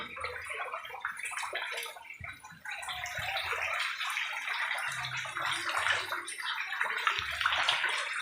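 Floodwater flows and gurgles steadily around a house swamped by heavy, unceasing rain, a continuous close wash with a few low bumps and splashes, no voices.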